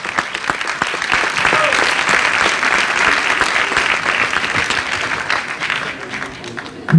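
Applause at a September 2021 inter-company sports challenge ceremony, sustained clapping from a crowd that swells and holds for several seconds before tapering, then ends abruptly.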